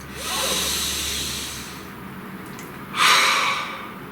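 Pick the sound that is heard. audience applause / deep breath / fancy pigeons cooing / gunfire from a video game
deep breath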